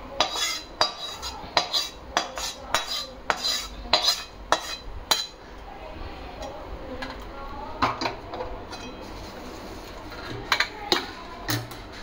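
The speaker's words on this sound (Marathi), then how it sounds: "आता इथे सारखं करताना ना आपल्याला खूप पेशन्सने व्यवस्थित करायला लागतं, सावकाशीने व्यवस्थित खालीवर करून घ्यायचंय" A spoon repeatedly scrapes and clanks against a pan while tempering is mixed into thin poha chivda, a run of sharp metallic strikes and rustling stirs, close and loud with a quieter patch midway.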